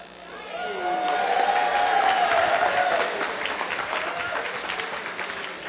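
A home crowd at a mayor's budget town hall meeting breaks into loud applause and cheering that swells, holds for a few seconds, then tapers into scattered clapping.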